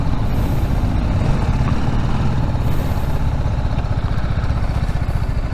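Heavy truck traffic rumbles steadily along a mountain road on the way from Pathankot to Srinagar, with a constant loud engine drone and road roar from up close.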